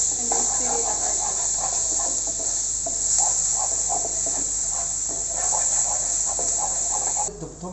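Garlic and onion stirred in a frying pan give a steady, bright sizzling hiss with soft intermittent scraping, while a voice talks over it.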